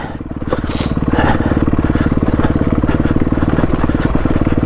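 A trail motorcycle climbs over rough rocks on Rivington Pike, the engine thumping in a steady rapid pulse, loud and close, with scraping and clatter from the terrain.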